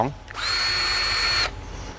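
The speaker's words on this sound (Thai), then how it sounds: "มี3ระบบนะครับ เจาะ แยกกระแทก มี3ระบบในตัว มีความเร็ว 2 ระดับ" A cordless hammer drill with three modes and two speed settings runs in a single burst of about one second, a loud close whine with a high steady tone that starts and stops abruptly, with a voice heard nearby.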